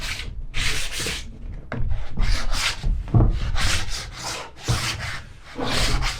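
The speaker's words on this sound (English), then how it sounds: "I've got my 120 sandpaper and a block, and the idea is to simply give these a light going over" Hand sanding of painted wood with 120-grit sandpaper on a block, heard as steady back-and-forth rasping strokes, close and fairly loud, repeating in an even rhythm with no talk.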